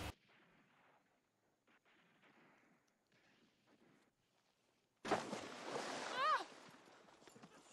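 A sharp gunshot rings out in a film scene, sudden and loud after quiet stretches of faint background sound, followed by a noisy burst of action.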